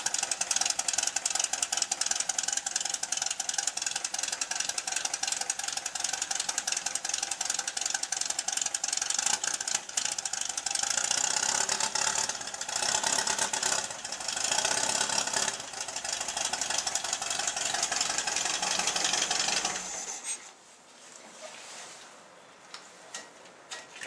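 The engine of a 1974 VW Beetle with a faulty carburetor idles roughly, with rapid ticking and uneven hesitation, loud and close for most of the time before abruptly dropping away near the end.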